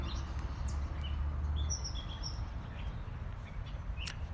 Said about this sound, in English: Lovely birds singing in the back.